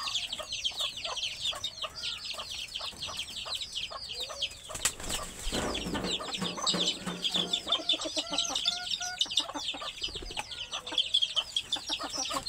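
Chickens clucking close by, busy overlapping calls repeating steadily throughout, with some rustling and a brief louder scuffle midway.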